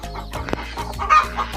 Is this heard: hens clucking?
yes